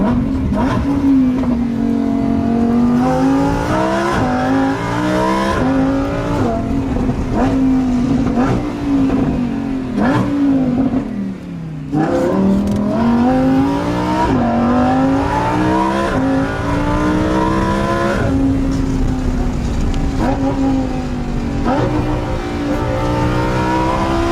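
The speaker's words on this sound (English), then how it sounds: "I like the sounds this vehicle makes." A 2020 Lamborghini Huracan EVO in Corsa mode on a winding road revs and accelerates repeatedly, the engine rising and falling through shifts and throttle lifts, loud and close with a brief dip midway.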